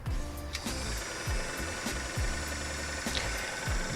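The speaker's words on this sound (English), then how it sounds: "it sounds like a dream now" A restored 1969 Sears sewing machine runs steadily with a fast mechanical whir and rhythmic thumping stitches, fairly close and uninterrupted, with no voices.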